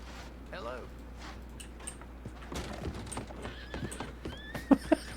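Horse hooves clip-clop steadily in the WildRP western game, with a horse neighing and whinnying partway through and voices talking over the close, moderate hoofbeats.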